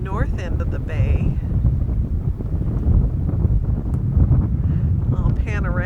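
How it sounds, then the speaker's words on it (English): Wind of about 10 knots gusts across a boat's microphone at anchor in a sunny bay, a loud steady roar with a voice briefly heard at the start and end. "The wind is picking up just a little bit. It's about 10 knots."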